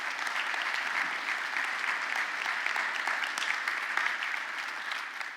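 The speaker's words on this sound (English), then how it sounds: "I'll probably use some of that applause in the editing of the thing" A church congregation delivers a steady, even wash of applause that holds at a constant level throughout, many hands clapping at once with no distinct voices standing out.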